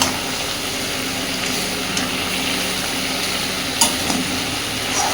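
Prawns sautéing in a pan with jackfruit, potato and spices give off a steady, even hiss throughout, with a couple of brief scrapes standing out near the start and the end. No one talks.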